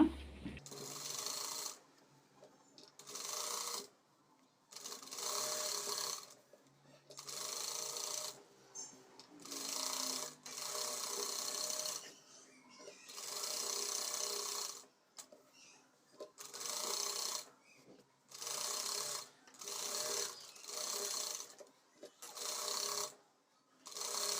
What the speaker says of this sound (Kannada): ಈಗ ಪೂರ್ತಿಯಾಗಿ ಲೈನಿಂಗ್ನ ಸ್ಟಿಚ್ ಮಾಡ್ಕೊಳ್ಳೋಣ